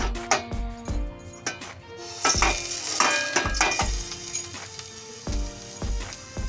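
Mustard seeds dropped into hot white oil in a wok for dhokla, sizzling and popping steadily, close up, with metal clinks and utensil scrapes against the pan throughout.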